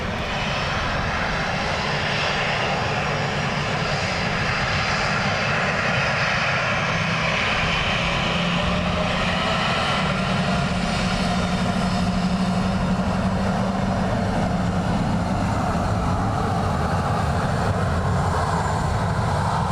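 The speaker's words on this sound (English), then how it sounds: "there was an aircraft reporting their landing gear was stuck down" Fixed-wing aircraft engine roar at Dublin Airport, a steady, loud and continuous drone of a plane flying nearby, holding at much the same level throughout with no talk.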